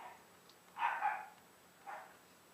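A few short, high-pitched yappy barks at moderate distance, a quick pair and then a single yip after a pause, with no talking.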